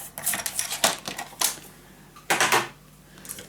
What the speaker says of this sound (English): So I'm gonna cut 2 strips of 1 inch.